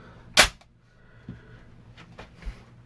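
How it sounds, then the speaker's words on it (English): A Smith & Wesson 6904 pistol dry-fired on an inert snap cap gives one sharp, loud metallic snap, followed by a few faint clicks and handling noises. "It's made for dry firing these pistols."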